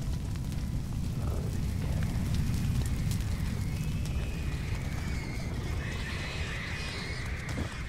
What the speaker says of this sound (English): Those are the pigs